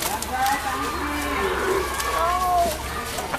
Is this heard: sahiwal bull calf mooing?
yes